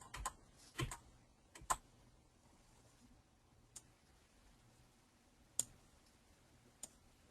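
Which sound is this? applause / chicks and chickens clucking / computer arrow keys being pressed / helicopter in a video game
computer arrow keys being pressed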